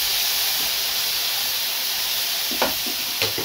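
Steak sizzling in a frying pan just after being flipped, a steady loud hiss and crackle of fat with a couple of brief pops near the end, no talking.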